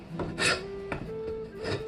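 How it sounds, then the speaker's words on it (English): Antique hand tools scrape along the hard wooden handle of a rusty 1600s battle axe, giving rough rasping strokes in a few separate bursts, close and moderately loud with no talking. "I'm going to use all antique tools. And I'm just going to go ahead and just start scraping."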